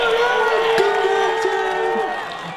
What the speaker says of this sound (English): Everyone give a cheer.